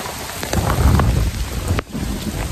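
During a Kalbaishakhi storm in a mango-picking area, heavy rain pours close by with a deep rolling rumble of thunder, briefly dipping before the downpour resumes.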